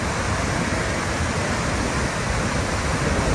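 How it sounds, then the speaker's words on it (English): A steady, loud roar of a waterfall along Norway's Flåm Railway fills the whole clip, dense and unbroken, with no voices over it. "What an amazing waterfall."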